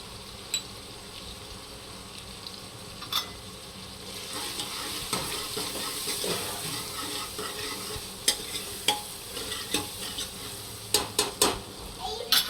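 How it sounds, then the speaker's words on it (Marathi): A bowl of soaked dal stirred into a pan of homemade spice mix, hot green chillies and turmeric for dal palak: close, steady scraping of the spoon against the pan over a soft sizzle, with sharper clinks now and then. "ही भिजवलेली एक वाटी डाळ टाकते चांगली अशी हलवून घ्यायची आहे"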